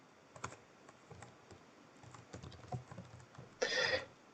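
Scattered keystrokes on a computer keyboard as Python code is typed, quiet irregular taps close by, ending in a brief louder burst of clicking.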